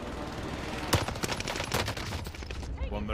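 Gunfire in Call of Duty Warzone: bursts of rapid automatic shots with one sharper, louder crack, crowding the mix throughout and fading slightly toward the end.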